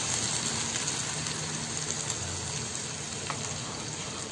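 Ground mint paste sautés in oil with bay leaf and cinnamon, a dense, steady sizzling hiss at moderate level with faint stirring underneath.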